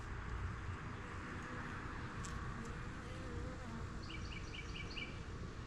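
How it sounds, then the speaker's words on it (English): Honey bees hum softly around an opened small two-frame queen hive, a low, steady drone held beneath faint outdoor background, fairly quiet and without speech. "Oh, there's plenty of bees on y'all's side."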